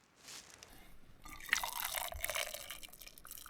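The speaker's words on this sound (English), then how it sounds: "pour hot water on it and I think marshmallows come out" Hot water poured from a kettle onto a hot chocolate bomb in a mug at a wild camp, a steady close splashing trickle that builds and runs without pause.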